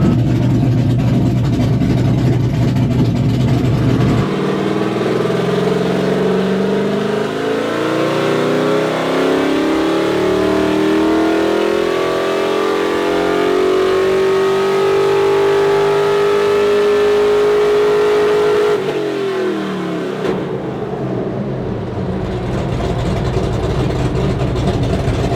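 A 572ci big block engine in a K5 on a dyno climbs from a rumbling idle into a long rising wide-open run, pitch sweeping upward for about fifteen seconds before cutting off, with a sharp backfire at the end, loud and close.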